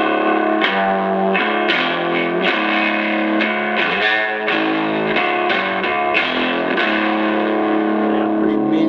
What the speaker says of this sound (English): pretty meaty distortion. Yep. It's like a heavy overdrive.